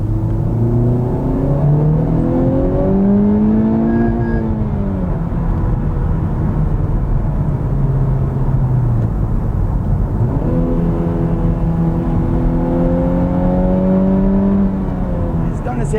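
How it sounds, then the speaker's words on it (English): A 2020 Honda Civic Type R exhaust sounds loud and close, engine pitch rising and falling through two rev sweeps with a steady low drone between them. "the exhaust has not changed, but the sound of the exhaust has changed."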